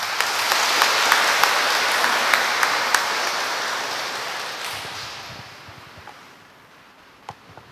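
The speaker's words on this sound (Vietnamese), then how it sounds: "Chúng ta cùng chúc mừng cho họ bằng một tràng pháo tay." Congregation applause in a church during a Catholic wedding mass, a full wash of clapping that gradually thins and fades away, leaving faint scattered sounds at the end.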